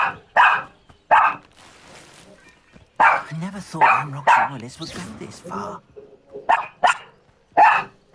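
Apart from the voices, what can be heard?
dog barking in a video game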